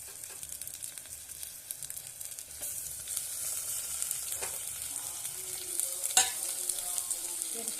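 Quail pieces frying with onions in a pan for a Tamil-style quail gravy, a steady soft sizzle with occasional scraping stirs and clinks of the utensil, fairly quiet and without talk.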